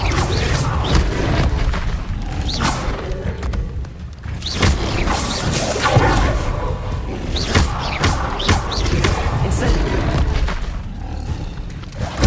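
Fire and levitation spells cast in Hogwarts Legacy, a series of loud whooshing bursts and impacts over dense game effects and music, repeating every second or two.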